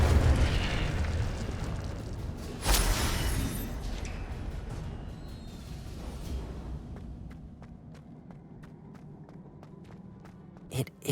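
Incendio fire spell cast in the video game Hogwarts Legacy, a sudden whooshing burst of flame that swells then fades into a crackling roar, followed by light footsteps and small pops.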